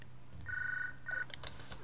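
A telephone in the prison video game Hard Time rings twice, with short electronic trills separated by a brief pause. The sound is faint and plays without any voices.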